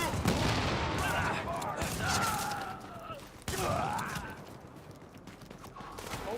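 Gunfire in The Division 2 game, rapid crackling bursts mixed with chatter, combat effects and game voices, with a sharp jump in loudness partway through.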